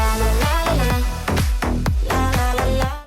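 Slap house electronic drum loop with a deep booming kick on a steady beat, layered with tonal synth hits, loud and upfront.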